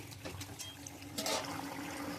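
Morola fish dropped into a pot of boiling curry with melted potato, pumpkin and pointed gourd gives a soft watery splash and bubbling, with a brief louder slosh midway over a steady low simmer.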